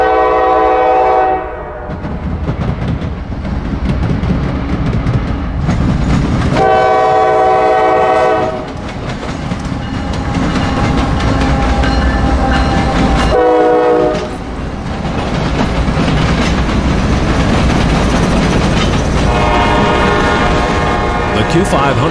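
A CSX southbound Q541 manifest freight train passes at Cordele, Georgia, horn blasts sounding repeatedly over the steady loud rumble and rattle of the rail cars, with speech heard at points.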